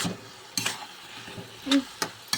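Tomato pieces cook with ridge gourd and soya in a frying pan. A few sharp spoon scrapes and clinks sound over a soft sizzle, close and sparse, with no talk.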